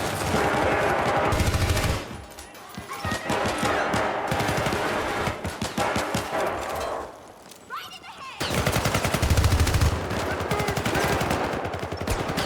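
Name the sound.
gunfire inside a storage container, video game Syndicate (2012)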